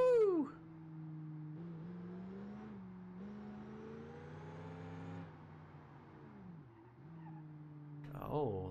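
A car in BeamNG.drive breaks loose in third gear, its engine droning steadily with tonal tire squeal rising and falling and a sharper skid at the start and end, under a voice.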